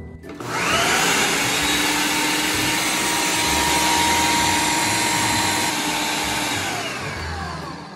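An electric chopper grinds raw minced meat with green masala, a loud, steady whirring motor running continuously for several seconds after a brief start-up.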